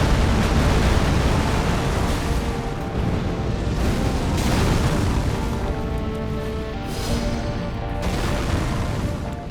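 A boss in Elden Ring sets off a volcanic explosion, a dense rumbling roar of booming bursts that stays loud and continuous for the whole stretch, with waves of crashing debris and no voices.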